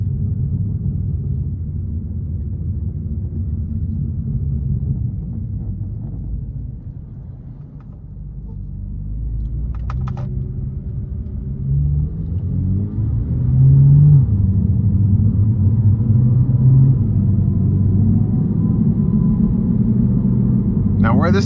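Steady low droning rumble inside the cabin of a Dinan-tuned 2017 BMW M2 while driving, continuous and fairly loud with a slight rise in level partway through, heard close without talk.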